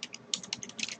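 Quick, light keystrokes on a computer keyboard, a dozen or so close taps in an irregular typing rhythm, with no speech.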